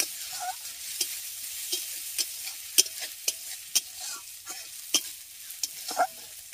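Ginger paste fries in oil under a steady hiss, broken by repeated crisp spoon scrapes and taps as it is stirred, close and fairly quiet, and no talking.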